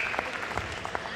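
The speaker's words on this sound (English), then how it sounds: "A nice round of applause for" A crowd at a girls' junior youth basketball final claps steadily, a faint, dense patter of many hands heard from a distance in a gym.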